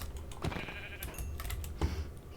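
A sheep bleats in the SevTech modpack of Minecraft at night, with the short game calls standing out against quiet background clicking that sounds like keyboard tapping, and no talking.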